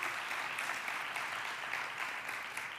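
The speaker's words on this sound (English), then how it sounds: "y'all give them a big round of applause for all that they do" Sustained applause from an audience honoring federal program directors at a keynote event, steady and dense throughout with no pauses.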